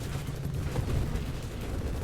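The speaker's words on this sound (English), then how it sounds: "Those were the celebratory fireworks." Celebratory fireworks in the video game Nova Drift crackle and thump in a dense, continuous burst of rumbling pops, loud and sustained across the moment with no talk.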